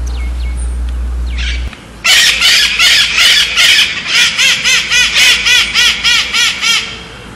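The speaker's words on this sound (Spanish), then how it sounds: "llegan los loros, bullangueros y de cabeza roja" A flock of raucous red-headed parrots calls near a house, a burst of loud, harsh squawks repeating in quick rhythmic volleys after a low hum stops.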